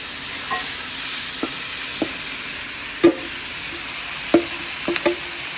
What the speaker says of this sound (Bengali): এদিকে চিংড়িগুলো কিন্তু ভাজাভাজি চলছে।